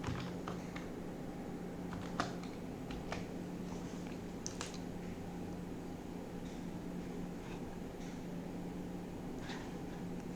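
Soft, scattered keystrokes tap out a short command on a computer keyboard, quiet and close against a steady background hum, with no voices.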